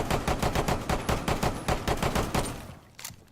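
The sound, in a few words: pistol firing in video game Rainbow Six Siege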